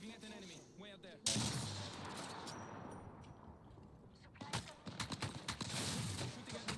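Bursts of gunfire in the battle royale video game Apex Legends crack and rattle, a sudden loud volley followed by sustained shooting and a denser rapid string of shots, with game sounds throughout.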